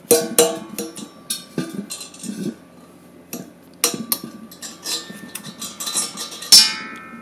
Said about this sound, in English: get a hammer and a bolt, stick it in the front of the valve, and then tap it